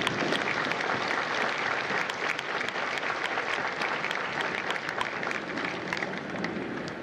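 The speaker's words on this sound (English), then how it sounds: "Please give yourselves a round of applause." Sustained audience applause at a U.S. Marine Corps recruit graduation at MCRD San Diego, dense steady clapping from a large crowd filling the whole stretch at even loudness.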